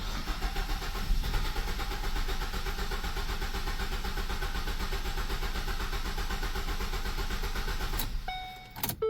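A 2013 Ford Focus with low fuel rail pressure cranking for a long stretch, a steady rhythmic churning starter drone lasting about eight seconds before it cuts off.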